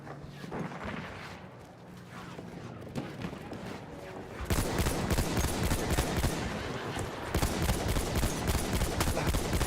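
Rapid automatic gunfire and explosive bursts from Battlefield 1 multiplayer combat, dense and loud, intensifying sharply midway into sustained volleys with overlapping shots.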